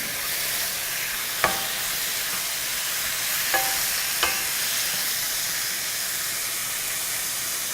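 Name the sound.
chicken breasts searing in a pan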